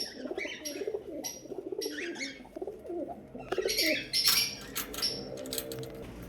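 Lakka pigeons, including a full black breeder pair, coo in a bird shop, soft repeated low coos joined by sharp chirps and fluttering clatter from other caged birds, close and busy.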